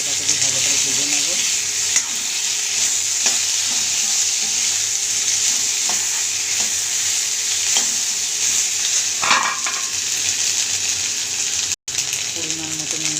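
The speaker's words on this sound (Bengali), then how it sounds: "আদাটাকে দিয়ে ভালো করে ভেজে নেবো।" Potatoes frying in oil with ginger added, a close, constant sizzle broken by scrapes and knocks of a spoon stirring the pan, steady for the whole stretch with one short gap.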